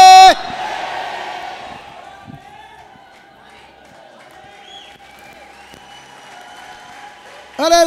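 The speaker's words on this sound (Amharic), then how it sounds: "ጭብጨባ ለጌታ ውዳሴ ለጌታ ክብር ለጌታ" A church congregation in Addis Ababa applauds and cheers during a sermon. Loud bursts of clapping and shouting come at the start and again at the end, with a fading crowd murmur and voices in between.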